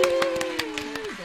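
A person applauding themselves with a short run of quick, light hand claps, about eight crisp slaps in just over a second, heard under a woman's continuous speech.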